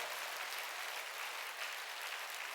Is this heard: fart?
no